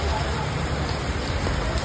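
Rain falls steadily outdoors, a constant close hiss of drops that fills the whole short stretch without pauses, with faint background murmur beneath it.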